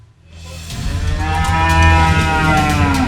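Cattle moo loudly and close at hand on a Lombok Tengah livestock farm during a foot-and-mouth disease outbreak, one long drawn-out low call swelling up after a brief quiet start and holding steady.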